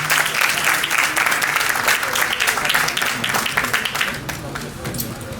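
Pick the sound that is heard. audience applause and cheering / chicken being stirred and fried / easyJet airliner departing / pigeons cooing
audience applause and cheering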